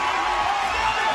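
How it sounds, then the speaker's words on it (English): Arena crowd at the 2016 CrossFit Games women's squat clean pyramid event, a loud sustained roar of cheering with scattered whoops as athletes near the finish. "as the crowd comes to its feet to cheer these athletes through the finish"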